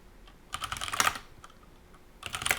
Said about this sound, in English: But we can also practice typing.